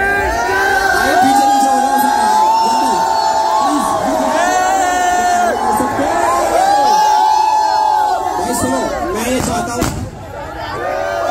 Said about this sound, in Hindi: भाई भीड़ देख रहे हो क्या भीड़ हो रखी है भाई साहब